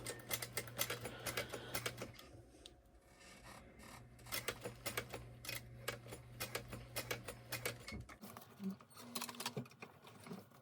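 Sewing machine backstitching fabric, its needle chattering in fast rapid bursts with a steady motor hum underneath, close and fairly quiet, stopping near the end.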